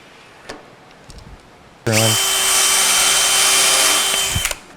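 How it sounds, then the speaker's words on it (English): A cordless power drill drives a screw into the plywood back of a cabinet, one loud steady whine after a few soft knocks, running for about three seconds before stopping. "I'm going to start screwing it off in the bottom"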